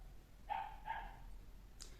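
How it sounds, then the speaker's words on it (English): A dog barking in the background at home, two faint, distant barks in quick succession followed by a brief high yip, over quiet room noise. "please, don't mind this dog that is back"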